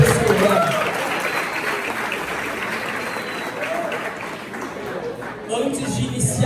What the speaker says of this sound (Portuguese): Então dá uma salva de palmas para Jesus e para o seu irmão.